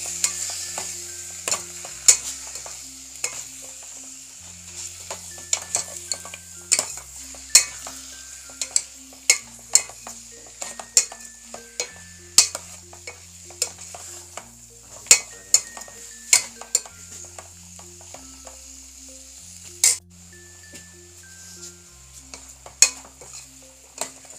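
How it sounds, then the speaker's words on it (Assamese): Chicken pieces stir-fried in a pan for chicken pulao, with a continuous sizzle and repeated sharp clinks and scrapes of a metal spatula against the pan, close and loud, with background music and no talking. "এতিয়া মাংসখিনি আমি 1-2 মিনিট আমি চট কৰি ল'ম।"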